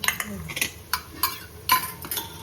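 Pav bhaji with grated carrot stirred in a pan, a quick run of close scraping and clinking spoon strokes against the metal with faint sizzling underneath.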